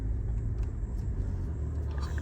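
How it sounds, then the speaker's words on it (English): A BMW i8 sliding on snow during a blizzard, heard from inside as a steady low rumble of the car and road noise with faint sounds in the cabin. "The car is sliding like crazy."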